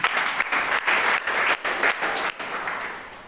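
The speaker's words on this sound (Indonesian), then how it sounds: "Boleh kasih tepuk tangan buat Tuhan." A church congregation claps for God during a sermon, a loud, dense applause that surges and dips in short waves before gradually easing off.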